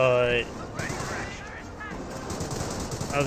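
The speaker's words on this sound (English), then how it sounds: "Pushing up right here, we'll get more rifles firing." Rapid rifle and machine-gun fire rattles through a Company of Heroes 1 battle as infantry squads push forward, dense and continuous for a few seconds with a voice briefly audible over the shooting.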